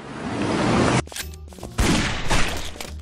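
Gunfire and explosions from the cartoon gangster shooter Guns, Gore & Cannoli: a loud sustained burst of shots for about a second, a short lull with ringing debris, then another dense, booming volley that gradually fades.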